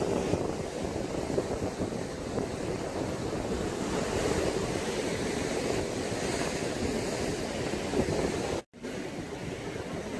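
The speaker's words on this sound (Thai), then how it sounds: "คลื่นแรงมากนะครับ เดี๋ยวมาดูคลื่นกันนะครับ" Strong sea waves crash continuously against the rocks at Lan Hin Khao on Mae Ramphueng beach in Rayong, a loud, roaring surf mixed with heavy wind buffeting the microphone, with a brief dropout near the end.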